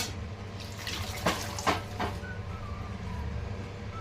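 Quiet kitchen background with a few brief splashy water sounds and clinks as hot water is poured to rinse spice off a plate.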